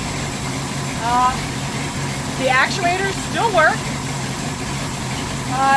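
A rebuilt boat engine runs steadily in a big water tub, a low continuous idle hum with exhaust water flowing, heard under excited talk throughout.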